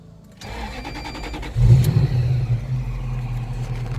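An Isuzu VehiCROSS with a supercharged Toyota 1UZ VVTi V8 and twin 2.5-inch exhaust cranks and catches, then settles into a loud, throaty rumble with rough revving, close by and without talk.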